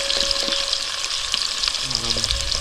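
Onions browning in a pan for brown rice give a steady, close sizzle and crackle of frying, with a few light stirring scrapes over the hiss.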